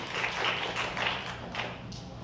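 Steady applause from a church congregation at a Sunday youth worship service, a continuous wash of clapping with slight swells, heard indoors at moderate distance.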